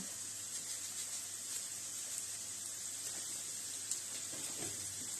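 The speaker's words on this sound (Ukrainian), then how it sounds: "нехай воно трошки посмажиться" Soft, steady sizzling of zucchini frying in a pan, a continuous low hiss with faint crackles, no voices.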